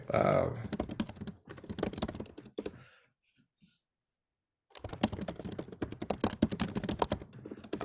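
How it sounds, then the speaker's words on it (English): Typing on a computer keyboard during a live question-and-answer stream, heard as rapid clicking mixed under continuous talk, with a brief quiet pause midway. "typing"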